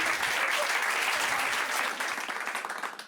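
An audience at a magic show breaks into dense applause that holds steady, then thins into scattered claps as it fades.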